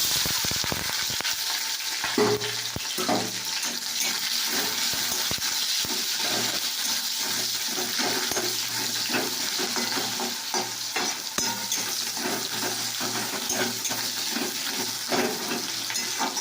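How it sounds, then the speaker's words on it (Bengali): Onions fry in a pan with ginger and garlic and bay leaf in a home kitchen, a steady close sizzle with repeated scraping stirs of a spatula throughout. "দেখো পেঁয়াজটা একটু ভাজা ভাজা হয়েছে"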